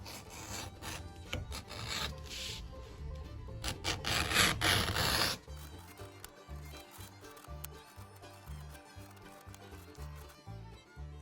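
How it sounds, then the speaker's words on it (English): An edge beveling tool shaves the edges of burrito halters, making a dense, raspy scraping for about five seconds, then falling to quieter, rhythmic low sounds. "Edge bevel these bad boys."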